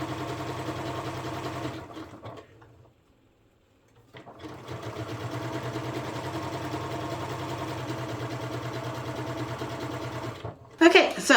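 Sewing machine stitching fabric for a fanny pack, a steady close motor whir with rapid needle chatter that stops for about two seconds and then runs on.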